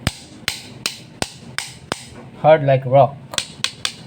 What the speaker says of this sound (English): Even if you use a hammer,